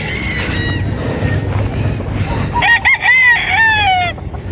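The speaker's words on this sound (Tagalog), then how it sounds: "Ito po ay mga broodstag na pwede nyo pagpilian pagdating sa expo." Gamefowl broodstags crowing nearby, a loud full crow rising and falling in the second half, over a bed of fainter background clucks and farmyard noise.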